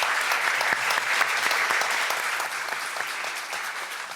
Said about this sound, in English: can we give a round of applause to all of our panelists?